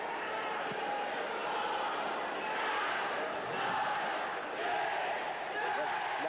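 A crowd in a 1986 QMJHL hockey arena, at a Hull Olympiques versus Shawinigan Cataractes game, keeps up a steady, rolling roar of voices chanting at the Cataractes over the score, and the noise holds at an even level throughout.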